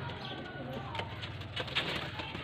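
A female Chatri pigeon from Faisalabad makes low, soft cooing close by, with a murmur of voices and light handling noises in the background.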